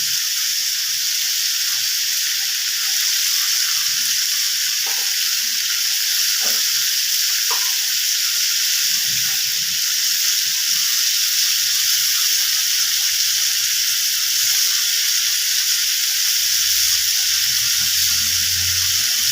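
Cumin, ginger and green chili sizzle in hot oil in a pan, a constant loud, close hiss of frying with a few faint taps and stirring sounds and no voices.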